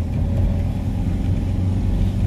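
A car engine laboring steadily as the vehicle climbs a steep street, a continuous low rumble with no talk over it.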